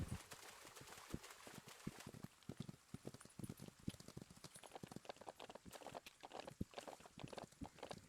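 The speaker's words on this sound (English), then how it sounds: "they are an end-of-game horse, pretty much" Horse hooves clip-clopping in the ranch video game Ranch of Rivershine, a run of quiet, irregular hoof thuds, some fast and clustered, some spaced, heard alone without talk.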